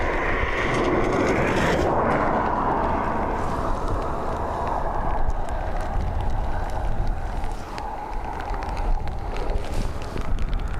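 Airliner taking off from the north runway at Dublin Airport on a breezy day, a loud continuous jet engine roar with heavy wind buffeting the microphone throughout, steady and sustained without talk.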